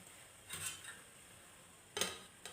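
A lid is set onto a pot of steaming gram-flour dumplings in kadhi, giving a few light metallic clinks and taps close by, with quiet pauses between them and no talk.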